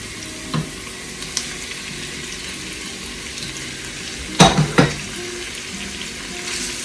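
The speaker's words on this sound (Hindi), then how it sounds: "इनको 1 मिनट के लिए सौते करेंगे। चिकन भी डाल देंगे साथ ही।" Chicken and onion sautéing in a pan, a low steady sizzle broken by a few sharp clatters and stirring knocks of a utensil against the pan.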